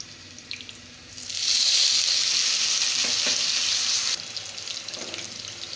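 Diced potato for kanda poha frying in a pan over a low flame, a loud hissing sizzle that swells in after a quiet start and then drops back to a softer crackle near the end.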